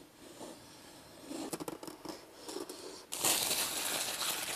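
Packaging for a HOTWAV Pad 8 tablet crinkles and rustles as it is unboxed, with quiet close crackles and handling noises that end in a louder burst of plastic rustling.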